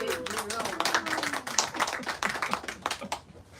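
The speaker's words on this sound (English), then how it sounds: "can I hear a little round of applause for Jerome Harris?" A small audience at a live evening event claps for Jerome Harris. The brisk scattered clapping lasts several seconds while voices murmur over it.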